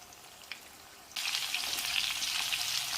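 Chicken sizzles in a small amount of oil in a pan, a faint tick, then a sudden loud hiss that settles into a steady bright crackle and spit. Close up and alone, with no voices.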